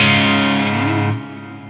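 Electric guitar run through the Blackstar St. James plugin on its EL34 drive channel, a single loud distorted chord sustaining with a brief bend before decaying, heard alone.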